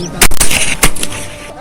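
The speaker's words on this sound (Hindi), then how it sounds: "राइफल से गोलियां निकलने लगती हैं।" Several sharp, loud rifle shots crack in quick succession during NCC cadet firing practice, echoing briefly after each blast.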